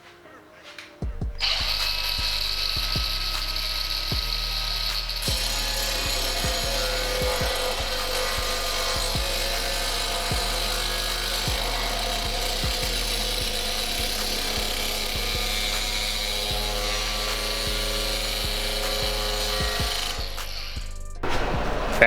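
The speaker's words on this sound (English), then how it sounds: "I'm gonna go ahead and start cutting that steel sheet" A power tool cuts a steel sheet for a custom fan shroud on a V8 FRS. It whines steadily and loudly for about twenty seconds over a pulsing low hum, then winds down at the end.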